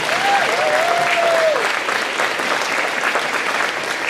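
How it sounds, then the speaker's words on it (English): Audience applause fills an indoor school awards ceremony, a steady, dense clatter of many hands at full loudness throughout, with a brief whistle-like tone rising near the start. "We can give another round of applause."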